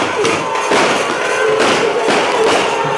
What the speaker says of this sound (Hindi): अब तो सीरियल के रूप में पटाखे फटाक फटाक बोल रहे हैं।